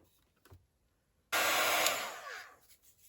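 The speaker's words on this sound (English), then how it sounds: "I might just bring my heat gun in." A heat gun blasting to dry wet paint and glue on an altered junk journal book cover, a sudden loud, close rushing whoosh that holds for about a second, then tapers off after a few soft taps.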